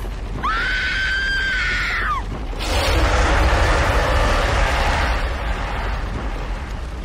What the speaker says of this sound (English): We'll start with some screams.